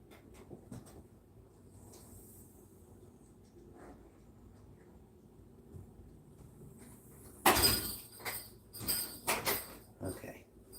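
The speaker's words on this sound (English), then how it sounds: "I wanted to lock my door" Bedroom door shut and locked indoors, a sudden loud clunk followed by a few sharper rattling clicks close by against a quiet room with faint crickets.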